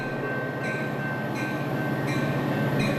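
Steady rumble of a metro train ride fills the clip, with a continuous low roar and faint periodic high squeals repeating about every second and a half, heard from inside the moving car with no talking.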